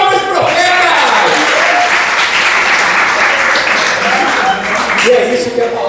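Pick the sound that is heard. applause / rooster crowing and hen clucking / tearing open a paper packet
applause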